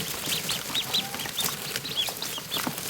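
Newly hatched ducklings in a hatcher give high, thin peeps and chirps in a steady overlapping chorus, heard close over a constant background hum.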